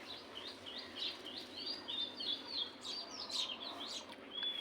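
Several birds chirp and call near a rooftop garden, a run of quick, bright tweets repeating over a faint steady background with no talking.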